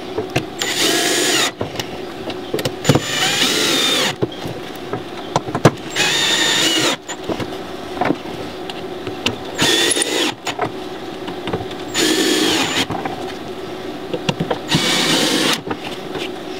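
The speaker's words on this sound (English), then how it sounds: "Now all I have to do is to put in these self-tapping metal screws." A power drill driving self-tapping metal screws into a trolley, several separate whirring bursts of a few seconds each with clicks and handling noise in the pauses.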